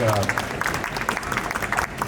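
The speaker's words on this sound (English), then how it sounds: "So give him a round of applause." A press conference audience applauds with light, scattered clapping at low volume, while a voice carries on speaking over the clapping.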